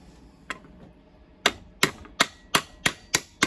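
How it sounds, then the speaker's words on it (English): Sharp metallic hammer taps on a pin in a Husqvarna chainsaw chain brake, one early strike then a steady series of about seven evenly spaced blows, close and crisp. "Grab my hammer."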